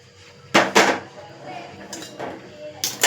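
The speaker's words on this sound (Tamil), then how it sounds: "இப்போ இதை எடுத்து நம்ம அந்த அடுப்பில் வச்சுருவோம்." A metal pot is set down on a stove: a few sharp clanks and knocks close by, spaced out over a few seconds.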